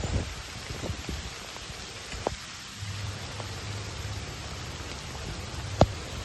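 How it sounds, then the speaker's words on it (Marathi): Heavy monsoon rain falls during paddy planting, a soft, steady wash of hiss with a few scattered louder drops and knocks, fairly faint and with no voices. "काहीच पावसाचा जोर वाढलेला आहे"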